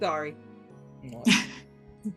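One short, sharp sneeze bursts out at close range in the middle of a quiet moment, with a person speaking briefly just before it and a soft voice apologising right after.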